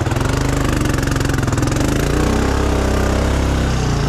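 A Honda Foreman 500 ATV with a 2-inch lift kit is driven in two-wheel drive on a muddy trail. The engine chugs loud and close with a rapid, even pulsing beat.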